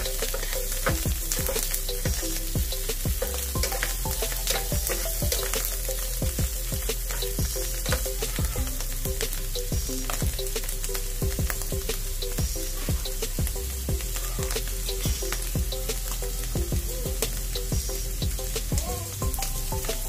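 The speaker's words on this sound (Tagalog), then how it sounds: "So, igisa lang natin din siya sa ating bawang at sibuyas." Mushrooms sauté with garlic and onion in a pan for a creamy tuna pasta, a loud continuous sizzle with frequent spatula clicks and stirring taps, no talking.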